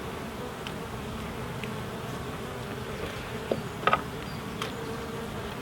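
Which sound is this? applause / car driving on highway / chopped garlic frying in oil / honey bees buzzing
honey bees buzzing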